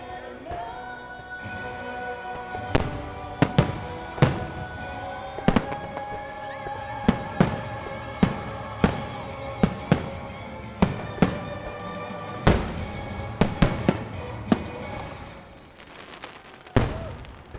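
Disney Enchantment fireworks burst over Magic Kingdom during a Christmas after-hours event, a series of sharp, booming pops and crackles echoing from a distance, some in quick clusters and others spaced a second or two apart.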